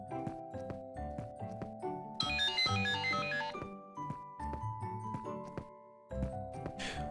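A cartoon phone ringtone plays a bright electronic melody of repeating tonal beeps and a brief jingly flourish, steady and clear with no talking.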